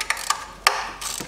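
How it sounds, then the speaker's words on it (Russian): Ignition coil bolts being unscrewed by hand on a 2003 Mitsubishi Colt 1.5, a few quick close metallic ratchet clicks spaced apart in a short burst. "Откручиваю 4 болта крепления катушек."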